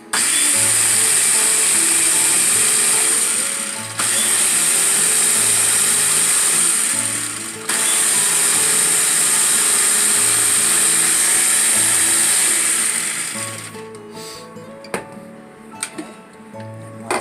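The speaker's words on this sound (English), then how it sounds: "just taking your time to blend each step, blend it really well together" A food processor blends roasted red pepper hummus made with peeled chickpeas, running as a loud, steady motor whir with a dense high-pitched hiss for about thirteen seconds, briefly dipping twice, then cutting off into faint clatter and scraping.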